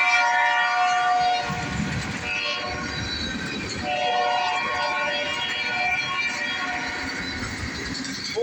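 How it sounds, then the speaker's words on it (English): A northbound CSX ethanol freight train rolls past close by, its loud horn sounding in long sustained blasts over a continuous rumble and clatter of tank cars on the rails. "That looks like we got some type of ethanol train here."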